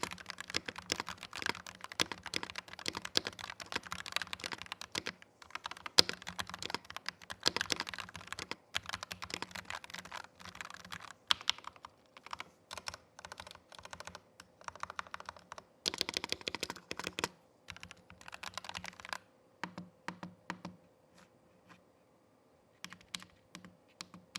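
Rapid clacking keystrokes from a CIDOO ABM084 mechanical gaming keyboard in continuous bursts with brief pauses, close and crisp, no voices.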